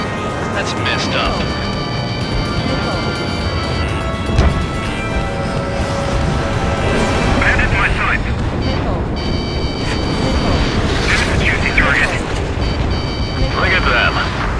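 Decoy aircraft being blown up in the combat flight game Ace Combat 7, heard as a continuous dense roar of explosions and crashes layered with engine drone and a rising tone, loud throughout, with speech over it.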